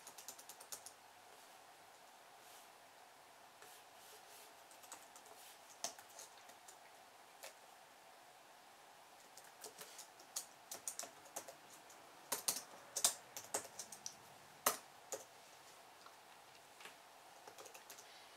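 Quiet, irregular keystrokes tap on an ASUS G74S laptop keyboard while entering a zip code, with scattered clicks and a few sharper louder presses in close, dry room sound.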